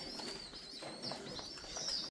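Pigeons in a breeding loft give soft, low coos against a faint steady hiss, quiet and close, with no voices.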